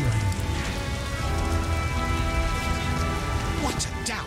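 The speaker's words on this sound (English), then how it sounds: "It's really raining." Rain pours down during a storm in The Witcher video game, a constant heavy hiss of falling water with layered tonal game ambience underneath, steady and loud throughout.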